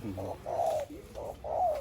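A decoy dove coos close by in two soft, throaty phrases separated by a short pause.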